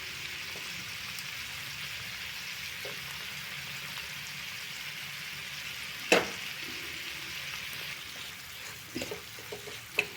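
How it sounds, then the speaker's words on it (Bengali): Vegetables frying in a pan in their own released water and melted fish oil, a steady close sizzle with a few sharp utensil knocks partway through and near the end. "সবজি থেকে যে জলটা বেরিয়েছে সেই জলটাই আমি দিয়ে ভেজে নিচ্ছি।"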